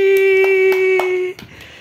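A handful of evenly spaced hand claps from children in an alphabet-practice session ring out over a constant tonal hum, then fade into quieter scattered noise.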